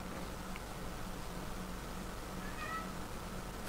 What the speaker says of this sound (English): he was my first little kitten, and him meowing at key moments